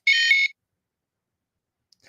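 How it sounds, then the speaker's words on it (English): A single short electronic buzz, harsh and close, lasting about half a second, followed by silence. "Did you guys hear like a beep or a buzz there?"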